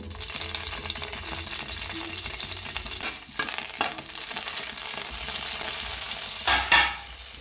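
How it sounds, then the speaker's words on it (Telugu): Green chillies frying in oil for a peanut chutney, a dense continuous sizzle with a few scraping stirs and a brief louder crackle near the end, close up and unbroken by any voice. "ఫస్ట్ ఆయిల్ వేసుకోవాలి ఇప్పుడు పచ్చిమిర్చి వేసుకోవాలి"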